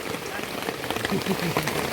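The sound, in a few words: rain falling in the forest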